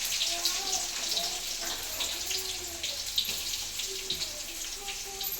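Onions go into a hot pan of roasted green chillies for avalakki upma, giving a steady, fairly quiet sizzle and crackle throughout, with a voice speaking faintly over it.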